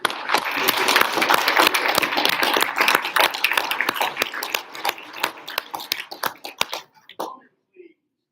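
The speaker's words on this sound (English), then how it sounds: "We could give HVAC a round of applause." Audience applause at a senior celebration, dense clapping from a crowd that thins into scattered claps before fading out near the end, with no talk over it.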